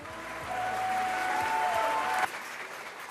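Thunderous applause greets Sylvester Stallone at the Golden Globes as he accepts best supporting actor for Creed, loud crowd clapping blended with music that runs for about two seconds and then cuts off abruptly.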